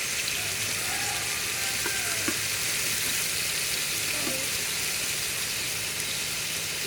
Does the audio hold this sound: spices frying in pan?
yes